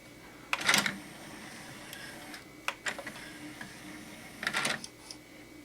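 The eject mechanism of a 1985 Technics SL-P2 CD player whirs and clicks nearby, with a few faint mechanical clunks and ticks spaced over several seconds in a quiet room.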